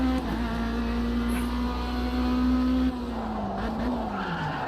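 Race car tires skidding under late braking, a sustained screech over a steady engine drone that drops in pitch and eases partway through, loud and close with no talk.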